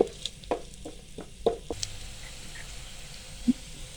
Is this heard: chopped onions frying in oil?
yes